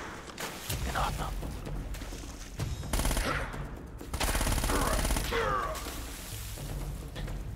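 Rapid machine-gun bursts and overlapping gunfire in the video game Uncharted, loud and repeated in several volleys with crashing impacts, alongside a speaking voice.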